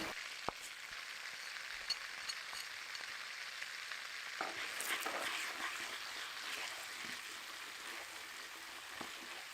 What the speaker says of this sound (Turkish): Yağ eriyince ilk olarak baharatları ekleyip karıştırıyoruz.